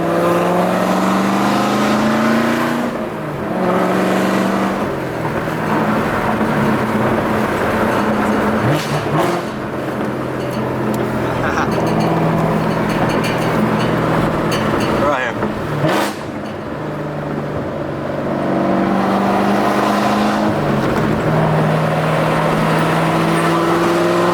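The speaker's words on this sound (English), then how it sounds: "Do some last downshifts before we're done with this setup." A Corvette C7 Z06 fitted with longtube headers drops through downshifts, its loud engine blipping and roaring with repeated rises and falls in revs, close to the microphone and steady throughout.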